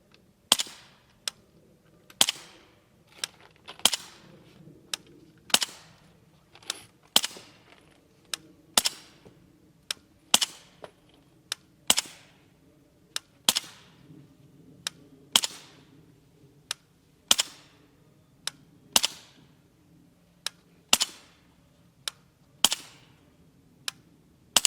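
A P90 SBR with a suppressor firing 5.7x28mm 55-grain FMJ rounds outdoors, a long, steady string of sharp, evenly paced single shots about one per second, each followed by a brief metallic clack.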